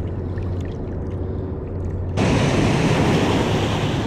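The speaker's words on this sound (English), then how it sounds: "Big shout out to the crew boat that just made this wake." Steady rumbling water and wind, then an abrupt surge into loud, hissing rushing water as a crew boat's wake washes close by.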